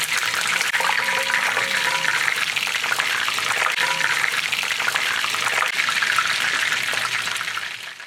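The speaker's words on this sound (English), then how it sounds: "You let the fish deep fry on one side first." Fish deep frying in hot oil makes a steady, loud, hissing sizzle that holds constant throughout with no pauses.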